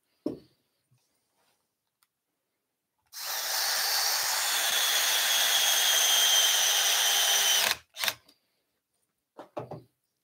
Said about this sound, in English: So small drill bit again.